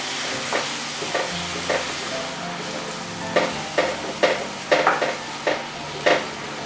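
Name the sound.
stirring and mixing yogurt into tomato-onion gravy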